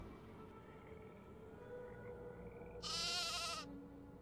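A sheep in the Nancy Drew game The Haunting of Castle Malloy gives one loud, wavering bleat near the end, over a quiet ambient background.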